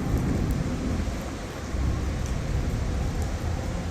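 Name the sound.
heavy rain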